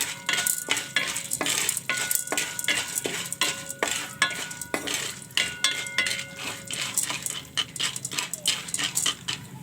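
Salt is stirred into oil in a pan while making homemade popcorn, a busy run of scraping and clinking utensil strokes against the metal, close and fairly loud, with sharp percussive hits throughout and no talk.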